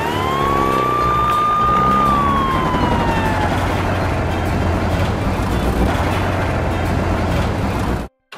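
A toy police car's electronic siren wails in a rising and falling tone, loud and close with a steady buzzing hum underneath, then cuts off abruptly near the end.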